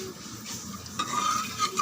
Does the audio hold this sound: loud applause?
no